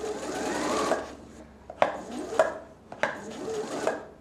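Janome XL601-series sewing machine stitching fabric in short bursts, a steady whir for about a second and a half, then several brief separate runs with pauses and clicks between, close and moderately loud with no talk.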